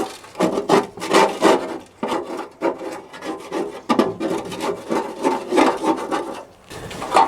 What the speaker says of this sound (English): So I just scrape everything down in there as much as possible.